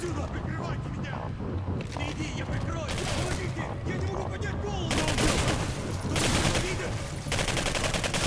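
Gunfire in the video game Singularity, with a dense, continuous barrage of shots and crackling bursts that grows louder in spells, all at a steady high level with no pauses.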